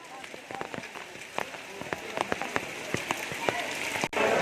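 Steady rain patters on surfaces in the courtyard of a Shiva temple during a monsoon water-offering ritual, with scattered close drops and splashes forming a continuous wash of noise.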